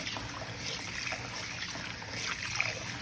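Rice is washed by hand in water to rinse off starch, a close, steady sloshing and trickling with soft swirls of stirring throughout.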